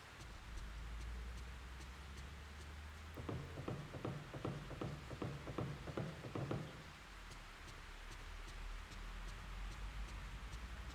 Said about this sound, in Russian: Дождь, может, за окном.